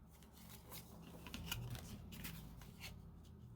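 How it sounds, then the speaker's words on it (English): Scissors cut a piece of cardboard for handmade book covers, giving a close run of crisp snips and scraping rustles of varying strength, with no speech. "I'm just going to cut out another piece of cardboard for my covers"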